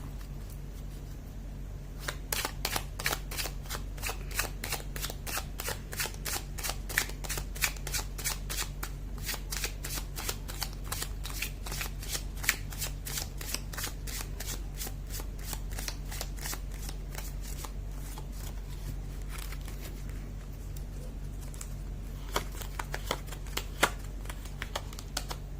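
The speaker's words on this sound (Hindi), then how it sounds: "कर ले तो कार्ड की शफलिंग।" Tarot cards being shuffled by hand in a quiet room, a long run of rapid crisp riffling flutters repeated over and over at close range with no talk.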